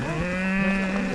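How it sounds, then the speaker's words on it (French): Cows low nearby in a field, a sustained droning moo with clear harmonic tone lasting about a second over steady outdoor background noise. "C'était des vaches."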